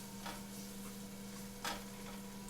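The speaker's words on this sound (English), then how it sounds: "Hopefully the sizzling's not too loud." Mushrooms and cream for an improvised cream of mushroom soup sizzle quietly in a pan with a continuous soft hiss, broken by a couple of brief stirring scrapes.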